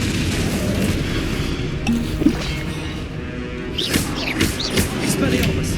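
Confringo blasting spells in Hogwarts Legacy go off as booming thuds and crackling bursts inside a busy, dense battle mix, with several impacts clustered late in the clip.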